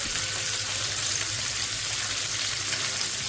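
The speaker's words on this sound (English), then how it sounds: "So I have shallow fried mackerels." Mackerel shallow frying in oil in a pan, a steady close hiss and crackle of sizzling that runs unbroken and fairly loud, with no voices over it.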